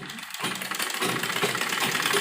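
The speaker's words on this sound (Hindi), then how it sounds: "हम नीचे की तरफ से आधा इंच लेते हुए सिलाई करेंगे" A sewing machine stitches frock pleats, its motor running in a fast, even, continuous chatter after a brief start, close and steady.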